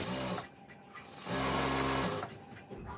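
Sewing machine stitching a bra seam, two bursts of fast motor-driven whirring separated by a brief quieter pause, close and steady, with no talk over it.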